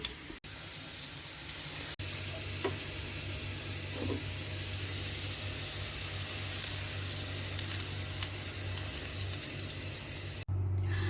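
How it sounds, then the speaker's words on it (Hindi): One sliced onion fries in a quarter cup of oil over high heat, giving a loud, steady hissing sizzle that runs unbroken at close range, with brief dips near the start and end. "1/4 कप ऑयल का तेज आंच पर प्याज को फ्राई करेंगे।"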